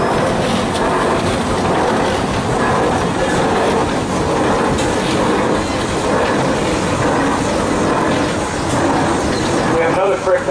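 A 1916 Frick 50 horsepower steam traction engine, 8.5 by 10, rumbles past loud and close at a steam expo, with a rhythmic clattering under background voices.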